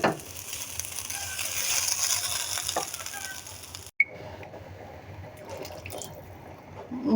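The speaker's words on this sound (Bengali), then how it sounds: "গরম পানি দিয়ে দিলাম।" Hot water pours into a pot of khichuri with lentils, onion, ginger and garlic frying in oil, making a continuous splashing gush that pauses briefly midway, then resumes and bubbles.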